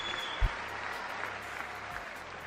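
Applause in the chamber during the State of the Union address, a steady, moderately distant crowd clapping that runs throughout, with a couple of low thumps.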